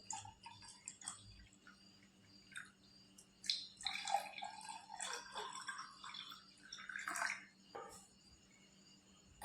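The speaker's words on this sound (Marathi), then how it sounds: "यानंतर आपण यात थंड पाणी घालतोय" Cold water poured into a glass of kokum concentrate for a summer drink, coming through as faint, uneven splashes and trickles in several short bursts separated by near-quiet gaps.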